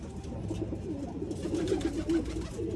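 Pigeons coo close by in a loft, overlapping low throaty rolling calls that carry on steadily, with no talking.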